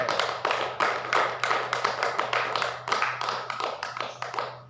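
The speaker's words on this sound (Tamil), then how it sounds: "ஒரு கைதட்டுங்களை பார்ப்போம், அவரோடு கூட." An audience claps together in a church service, a steady run of sharp hand claps that sounds somewhat rhythmic and fairly close, with no voices over it.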